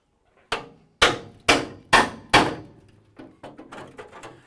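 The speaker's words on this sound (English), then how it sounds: "I also use a really big hammer because while the blows are a little bit harder on my elbow, they're a little easier on the sheet metal." A really big hammer strikes a sacrificial piece of sheet metal while spot welds are separated: five heavy, evenly spaced blows, then several lighter taps, each ringing briefly and loud and close with no talk.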